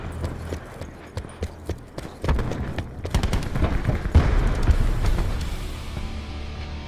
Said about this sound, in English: War machine firing.